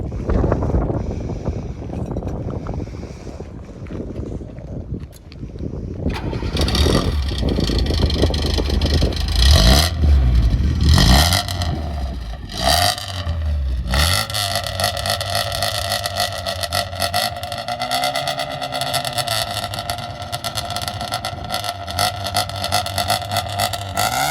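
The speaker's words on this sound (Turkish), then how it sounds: "Burada böyle egzoz sesi dinletimler arkadaşlar" A Tofaş car engine revs and settles with a deep, throaty exhaust rumble that rises and falls, close by and loud, with wind buffeting the microphone.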